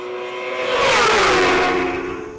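A racing machine roars past on a motor racing circuit, rising to a loud, whooshing peak as it nears and then fading as it pulls away, with no voices over it.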